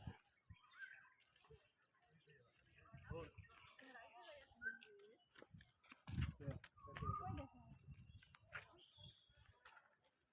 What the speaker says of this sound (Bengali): পাখির কোলাহল